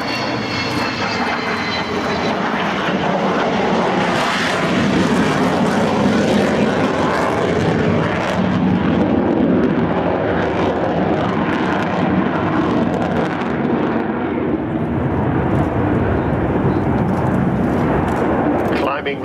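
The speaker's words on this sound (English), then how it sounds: "So here is Kevin and Pod bringing her in on the low overshoot" An Avro Vulcan bomber making a low overshoot flypast with the gear coming up: a loud, sustained, roaring engine drone that swells and fades across the whole pass, heard outdoors with no talk.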